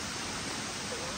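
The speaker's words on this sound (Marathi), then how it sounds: "पाण्याचा खळखळ आवाजसुद्धा तुम्हाला ऐकायला येत असेल" Stream water gurgling along a forest path, a dense, continuous babbling rush that fills the whole moment at a fairly close distance.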